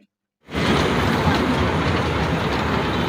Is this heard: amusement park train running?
yes